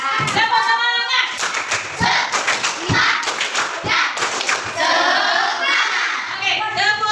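A classroom of students in an Islamic religious education lesson performs the rhythmic spirit clap, with sharp patterned bursts of hand claps and chanting voices repeating for several seconds.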